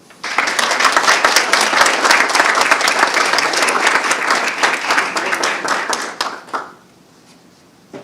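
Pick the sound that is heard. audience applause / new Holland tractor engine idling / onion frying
audience applause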